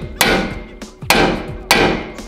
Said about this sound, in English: Grab that same hammer, and we're gonna hammer it straight in.